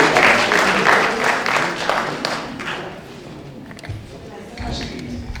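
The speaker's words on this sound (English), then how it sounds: "Another round of applause for them." Applause for the Women of Valour at a Paris 2025 event, loudest at the start and thinning as it goes on, scattered claps and taps with a voice talking over the fading clapping.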